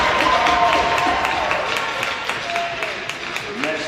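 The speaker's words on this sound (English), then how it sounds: "Please give a round of applause for Sheldon Nolan." Sustained crowd applause at a college men's Division I hockey senior night, steady dense clapping from many hands in an arena, with a few whistles rising over it.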